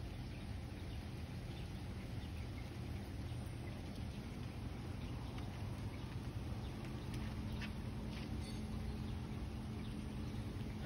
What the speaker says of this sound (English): Got a good little drizzle going on here.